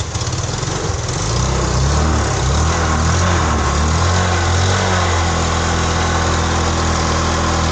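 A Rusi motorcycle engine, just restarted after being submerged in a flood, idles steadily and loudly up close with a low rumbling throb and a slight exhaust leak hiss, running alone without talk.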